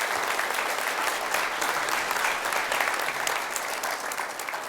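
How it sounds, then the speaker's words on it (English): A lecture audience claps for two members of the ATD-2 team, a full, even roar of many hands applauding that stays strong and steady and tapers slightly near the end. "I want you to give them, representing their whole team, a round of applause,"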